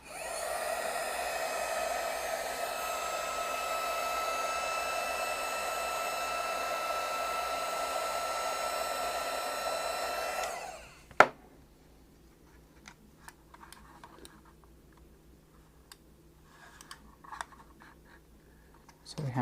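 Hot-air tool heating the sticker on a Razer Cobra mouse during a teardown, a steady loud blowing hiss for about ten seconds that then stops, followed by a sharp click and faint handling noises.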